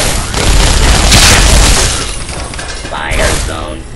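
Robot in the Fallout 3 video game firing lasers, heard as loud booming energy blasts with a rumbling burst in the first half, then a descending electronic whine and a second lighter burst near the end.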